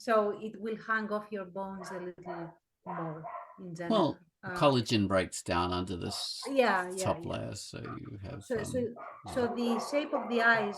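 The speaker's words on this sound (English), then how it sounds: "Sorry about the dogs." Dogs bark and yip in the background, defending against another dog, mixed under continuous close conversation between two people.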